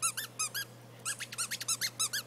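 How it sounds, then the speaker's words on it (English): Rubber squeaky toy ball squeezed repeatedly, a rapid run of sharp high-pitched squeaks in quick bursts, loud and close, with no talk. "Squeak the green things in it, the little balls."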